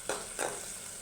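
Turmeric, chili powder, salt and coriander powder fry in oil as the base of a prawn curry, with a soft, steady sizzle and two brief stirring scrapes close by.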